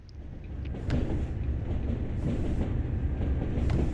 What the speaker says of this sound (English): Never thought I'd be driving a train through it though.